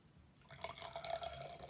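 Dark beer from Laugar Brewery and Brouwerij de Molen poured into a glass, a close, steady liquid gurgle and splash that swells after a quiet start and continues for under two seconds with no voices.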